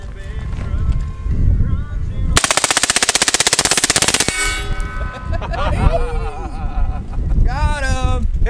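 A full-auto AR rifle fires a loud, rapid burst of about two seconds at close range outdoors, with shouting voices and ringing metallic clangs from hit targets before and after.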